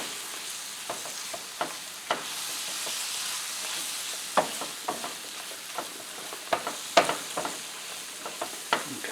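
A spoon stirs a sausage gravy mixture in a pan, giving a steady soft scraping and sizzling bed broken by scattered sharp clinks and taps against the pan, close and fairly quiet with no talking.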